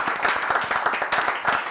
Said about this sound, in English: Can we give one final round of applause to the first ever